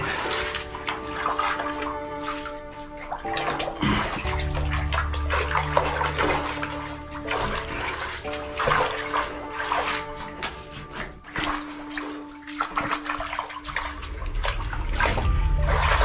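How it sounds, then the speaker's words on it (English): Water drains out of a swamp through a tunnel as a continuous rushing, splashing flow that stays fairly loud and steady, with faint tonal sounds above it. "Draining out the swamp."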